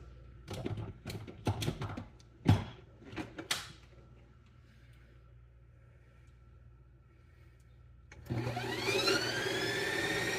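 A Ninja Creami ice cream maker starts its respin cycle on a light caramel protein ice cream, a loud steady motor whir and grind kicking in near the end after some clattering handling noises.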